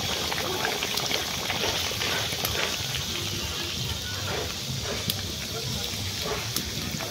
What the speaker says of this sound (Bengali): টক ফুটে গেছে